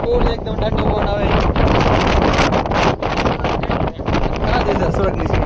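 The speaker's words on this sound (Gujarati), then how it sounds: "આપણે ઉપર જઈ ગયા અને ફૂલ એકદમ ઠંડો પવન આવે." Cold mountain wind gusts across the upper steps of Girnar mountain near Junagadh, buffeting the microphone in a loud, unbroken roar with brief dips in strength.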